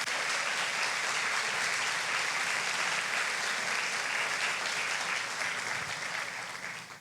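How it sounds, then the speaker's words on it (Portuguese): A church congregation applauds, sustained crowd clapping that fills the room evenly for several seconds before easing off at the end, with no voices over it. "dê uma salva de palmas, de verdade."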